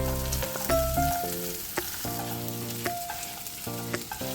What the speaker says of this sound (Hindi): कुटी हुई अदरक, लहसुन, अदरक और इनको अच्छे से भूनिए।